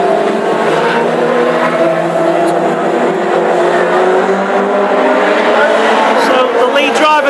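Classic hot rod race cars roaring around the oval at Hednesford during a heat, engines droning loud and continuous with rising and falling revs, under a commentator's steady talk.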